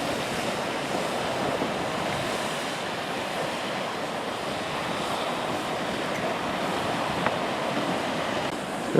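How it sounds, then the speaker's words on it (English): A small geyser at Norris Geyser Basin in Yellowstone bubbles and churns in a steady, surf-like roar, continuous and fairly loud, with wind noise over it and no talking. "Little geyser."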